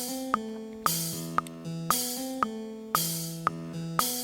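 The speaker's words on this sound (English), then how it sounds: "So you can hear our guide track there with the hi-hat." Drum guide track for a metal song, with a steady hi-hat hit on the offbeat over a repeating bass-and-guitar pattern. Loud and regular, with no voices.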